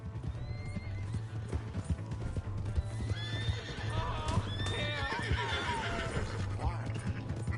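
Hooves clop in a steady galloping rhythm, with a horse whinnying loudly partway through, under bits of voice and game ambience, in the video game Red Dead Redemption 2.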